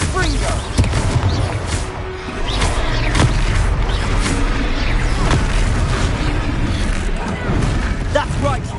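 A Confringo blasting spell explodes in the video game Hogwarts Legacy, loud booming bursts over dense battle noise with a sustained rumble, several sharp impacts spread through the fight.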